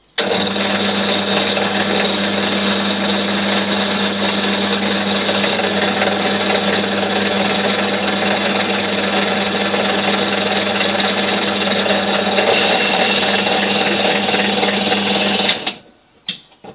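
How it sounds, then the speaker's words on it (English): A power drill whirs steadily at high speed for a long stretch, close and loud, drilling a central hole in a box, then abruptly winds down and stops near the end. "I'm just going to drill a central hole in the middle of my box"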